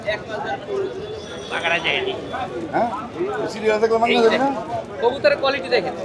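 Pigeons coo intermittently at Kaptan Bazar pigeon market on a very hot day, largely buried under steady nearby talk and crowd chatter.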